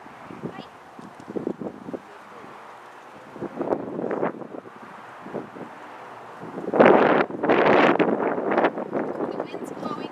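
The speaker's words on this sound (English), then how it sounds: "The wind's blowing today" Gusty outdoor wind buffets the microphone in uneven surges, strongest toward the end, while a person talks over it.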